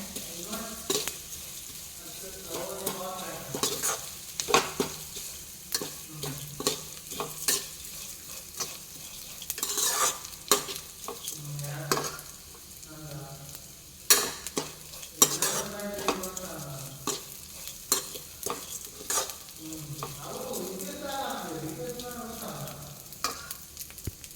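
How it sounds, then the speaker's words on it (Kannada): Shavige (vermicelli) stirred and fried in a pan, with a continuous light sizzle and frequent scraping, clinking strokes of the spoon against the pan. A voice speaks intermittently over the cooking. "ಇದಕ್ಕೆ ಶಾವಿಗೆಯನ್ನು ಹಾಕಿ ಒಂಚೂರು ಫ್ರೈ ಮಾಡುವ ಇದರಲ್ಲೇ ಒಟ್ಟಿಗೆ"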